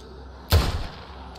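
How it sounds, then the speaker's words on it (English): A single gunshot in the video game State of Decay 2, a sudden sharp blast with a short rumbling tail over quiet background. "He didn't even hear that shot."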